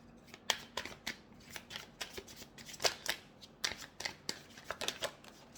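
A deck of tarot cards being shuffled by hand, a rapid, irregular flutter of soft papery riffles and snaps, close and quiet, with no talking over it.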